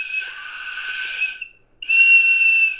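Two shrill toy whistle blasts from a child's breathing-exercise blow toy, close and loud, the first long and slightly wavering, a brief gap, then a second steadier, piercing toot.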